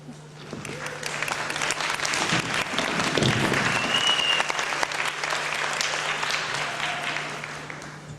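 Sustained applause from an audience at a building renaming ceremony, a dense steady clapping that swells slightly midway and continues without pause.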